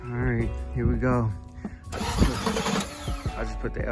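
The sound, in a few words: Chevrolet Impala SS engine starting and idling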